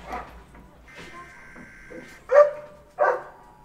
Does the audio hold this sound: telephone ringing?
no